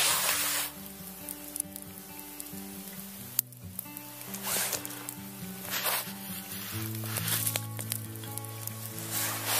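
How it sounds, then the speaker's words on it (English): Water heats in a metal coffee pot over a campfire with a steady, soft sizzling hiss, half buried under loud background music. "And then just put it over the campfire, wait till the water boils."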